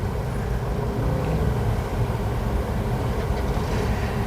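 Continuous heavy rumble and rolling roar of metro trains moving nearby in Mumbai, steady and loud for the whole stretch with no talking.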